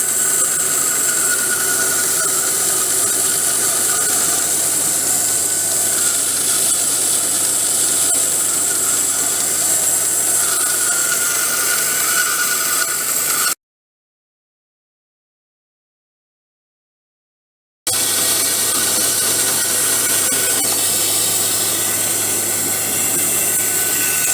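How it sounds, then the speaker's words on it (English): A saw grinds steadily through an old wooden butcher's block, a constant harsh whir that cuts out completely for a few seconds and then resumes at the same pitch. "So it's over to the saw."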